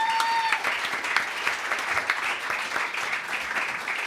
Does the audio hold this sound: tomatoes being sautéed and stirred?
no